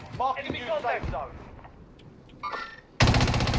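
Burst of rapid automatic gunfire in the Warzone video game lands hard at the end, loud and dense, after stretches of players talking over quieter game sounds.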